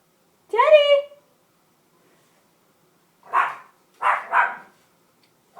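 A dog barks near and loud indoors: one drawn-out yelp, then after a pause a single bark followed by a quick double bark, with silence between.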